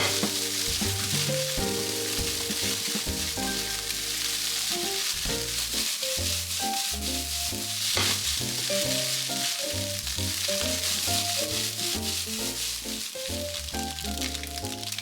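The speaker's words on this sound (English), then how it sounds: "Add soy sauce and sauté." Fried rice sizzles loudly and continuously in a hot pan as soy sauce is added and the rice is sautéed, with steady stirring and scraping throughout and no voices.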